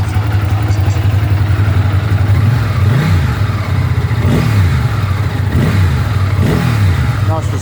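1998 Ducati ST2 motorcycle on a cold winter start-up, a loud close steady idle with a throbbing beat, punctuated by four quick throttle blips that rise and fall in pitch.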